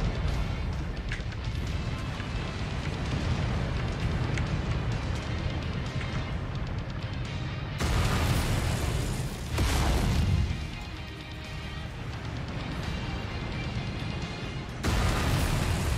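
SRM missiles bursting in the MechWarrior 5 video game, a run of loud, dense explosive blasts over a constant roar of mech combat, with the heaviest impacts at about the middle and again near the end.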